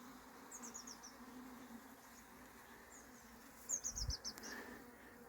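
Bees foraging in a spring meadow near their hive hum faintly and steadily, with a couple of nearby buzzing passes and bird chirps in the open air, no voices.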